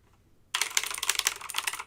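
Keys on an Eagle Tech wired mechanical keyboard typed in a rapid, close burst of crisp clicks after a moment of quiet, with no talking.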